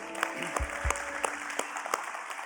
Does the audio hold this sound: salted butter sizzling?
no